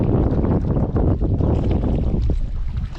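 Strong coastal wind buffeting the microphone during shore squid fishing, a loud continuous roaring rumble with gusty swells and no pause.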